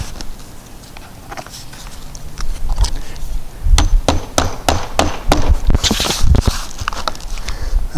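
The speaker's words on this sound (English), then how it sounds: "Nail it in order down here to keep it straight." Boards for a backyard pavilion are nailed with a hammer, a run of sharp, close strikes that speed up into a quick rhythmic series after a quieter start.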